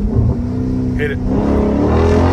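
A 500-horsepower Dodge Scat Pack accelerating hard in first gear: a loud, close engine pull whose revs climb steadily over about two seconds.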